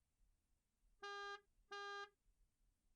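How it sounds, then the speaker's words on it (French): Two sustained car horn blasts sound from outside, each about a third of a second long with a short gap between, loud and clear over a quiet background. "Tu entends le son d'un klaxon qui vient de l'extérieur."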